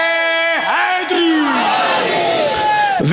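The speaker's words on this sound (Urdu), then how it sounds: "نعرے حیدری" A large crowd roars the Nara-e-Haidari chant at a religious gathering, a loud sustained collective shout with rising and falling voices that fills the whole stretch.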